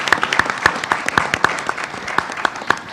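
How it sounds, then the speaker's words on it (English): An audience at an evening business-school gathering in Washington, DC applauds themselves: a moderate, loose round of clapping with distinct individual claps standing out over a softer crowd patter. "Can you give yourselves a round of applause?"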